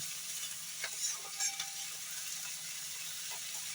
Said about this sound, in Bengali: তো পেঁয়াজ শাকটা বেশি ভাজবো না,